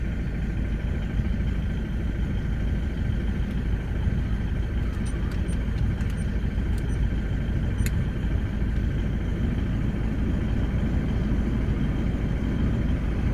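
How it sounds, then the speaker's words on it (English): A car engine idles steadily and loudly throughout, holding a constant low rumble with the air conditioning running, a slight easing of the engine note barely evident. "hear the engine slow down"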